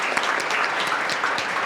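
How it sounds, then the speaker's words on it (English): Brief, dense clapping from an audience at a community storytelling event, steady and fairly loud throughout with no voices over it. "Can we give her a round of applause?"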